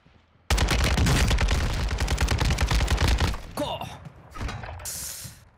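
A Fennec submachine gun in Warzone 2 fires a loud, rapid sustained burst for about three seconds, followed by a brief clatter and a few lighter mechanical and impact sounds.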